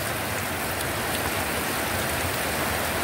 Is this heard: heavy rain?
yes